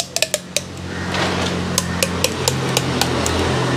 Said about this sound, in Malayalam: ബ്ലേഡ് വെച്ച് ഫുള്ള് കീറി എടുക്കാം